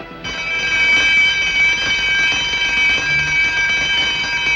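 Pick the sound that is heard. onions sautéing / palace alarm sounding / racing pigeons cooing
palace alarm sounding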